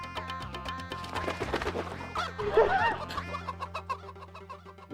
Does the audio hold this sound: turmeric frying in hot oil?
no